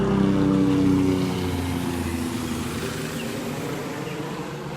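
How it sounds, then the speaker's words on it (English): A noisy helicopter flies low over a beach in North Naples, Florida, its steady engine and rotor rumble loud at first and then gradually fading as it passes. "Comes a noisy helicopter."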